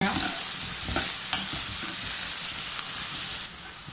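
Green chilies, ginger, curry leaves and garlic sizzle in hot oil for a Kerala-style pork curry, a steady frying hiss with occasional stirring scrapes and clinks throughout, no voices.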